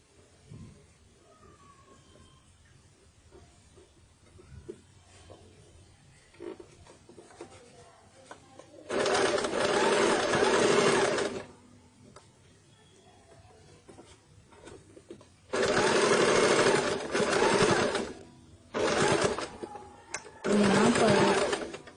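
A sewing machine stitches a baby shirt in several bursts of steady, fast mechanical whirring, each running a few seconds and separated by quiet pauses with faint handling noises, close and loud.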